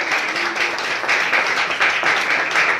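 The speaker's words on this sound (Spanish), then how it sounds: "Denle un fuerte aplauso a Cristo Jesús" A church congregation gives loud, sustained applause during a sermon, dense clapping from a crowd that stays steady from start to finish.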